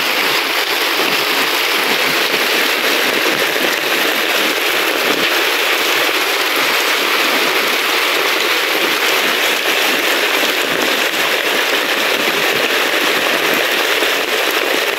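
Heavy rain pours onto a house on Bakura Island in the Philippines, a dense, loud, unbroken hiss that holds steady for the whole stretch with no voices.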